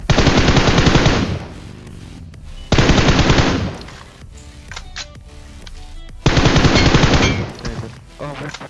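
Three loud bursts of rapid automatic gunfire with quieter intervals between, close and harsh, from mobile PUBG combat.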